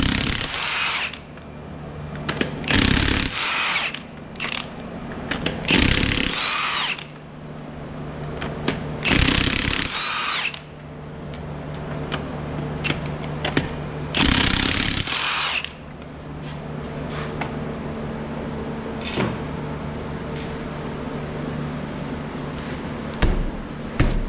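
Power tool loosening the five 21mm lug nuts from a Hyundai Santa Fe front wheel, several loud bursts of whirring and rattling separated by quieter pauses with clinking.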